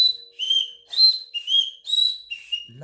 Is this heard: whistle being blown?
yes